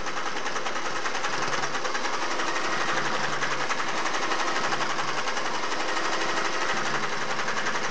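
Singer Model 401A sewing machine stitching across a seam, a steady fast mechanical whir with rapid needle rattle, close and continuous for the whole stretch.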